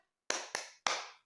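A classroom rhythmic clap, three sharp claps with short ringing tails in quick succession, close and fairly loud, with a brief fourth sound just starting at the end.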